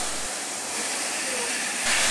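LNER B12 steam locomotive 8572 on the East Lancashire Railway during a loaded test run, giving a steady, loud broadband hiss of escaping steam that swells slightly toward the end.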